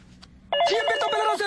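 A phone ring starts abruptly after a quiet half-second and keeps going loud and steady, with harmonic electronic tones.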